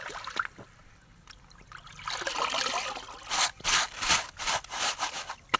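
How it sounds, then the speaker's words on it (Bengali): Rice being washed by hand in pond water, with soft sloshing and rubbing of grains that grows into repeated rhythmic scrubbing strokes, close and moderately loud with no one talking. "তো পুকুর থেকে আমি প্রতিদিন এভাবে চাল ধুয়ে নিই"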